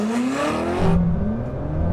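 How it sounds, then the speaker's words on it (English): Hypercar engines from a Koenigsegg Jesko Absolut and Bugatti Chiron Super Sport on a runway quarter-mile drag race launch, a loud rising rev then a sudden drop to a lower idle-like drone, close and without talk. "We're going to do the quarter-mile drag race."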